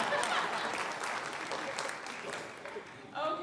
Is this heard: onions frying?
no